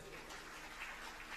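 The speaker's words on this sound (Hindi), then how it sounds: "कृष्णा शंकर राव गायकवाड़, ये परिवार, इनके लिए ताली बजाओ" A seated audience at a Hindu religious discourse claps steadily, a faint, even wash of applause from a distance.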